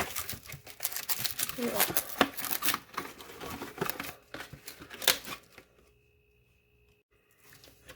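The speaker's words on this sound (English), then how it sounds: "And now we're going to get some of this plastic wrap." Plastic wrap crinkles and rustles as it is pulled off and handled in a kitchen, in close irregular crackling bursts that fade into near silence, with a brief spoken word.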